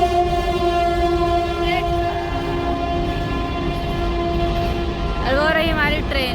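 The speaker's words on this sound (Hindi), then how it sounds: "और वो रही हमारी ट्रेन, 4-5 मिनट में पों पों करने आ जाती है।" A train passes near a home with a low steady rumble throughout, then sounds its horn in loud sustained blasts toward the end, close and dominant.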